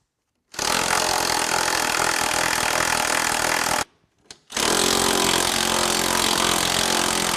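A power tool, likely an impact driver, works loose suspension bolts on a modified 700 Ski-Doo snowmobile chassis in two loud, sustained bursts with a brief pause between them, heard up close.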